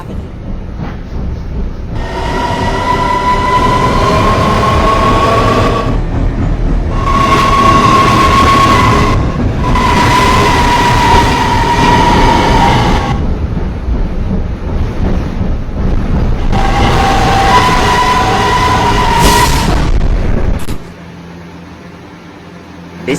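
Local commuter train running, a broad steady rumble with a tonal whine that rises and fades in several bursts, loud and close throughout before dropping suddenly near the end.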